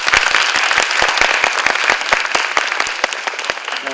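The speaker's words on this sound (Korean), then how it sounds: "1시간 한 20분 동안 고생해주신 패널분들께 박수 한번 부탁드립니다." An audience at the 2011 World IT Management Forum claps for a cloud-computing panel: dense, steady applause with many sharp individual claps, loud and sustained throughout, no voices over it.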